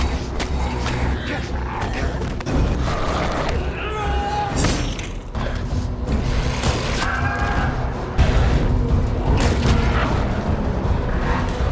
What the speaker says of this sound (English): Gruner detonates the explosives